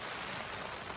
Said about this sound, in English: it's decided it wants to rain